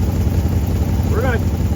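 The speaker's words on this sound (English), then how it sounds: "There's the exhaust leak." A Dodge Charger engine runs with an exhaust leak, giving a continuous close, loud rumbling idle with a brief higher chirp partway through.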